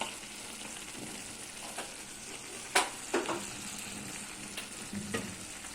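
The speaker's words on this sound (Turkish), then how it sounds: "Bu aşamada sadece şu kadar bir tereyağı koymaya karar verdim." Butter hits a pot of nearly cooked rice pilaf with a faint, steady sizzle, broken by a few soft clicks and scrapes.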